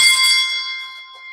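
A hand bell struck with a beater, its bright metallic ring sustaining and slowly fading over a little more than a second, heard alone and close.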